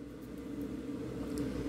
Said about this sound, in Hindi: और फिर मेरी माइक्रोवेव में जाता है ये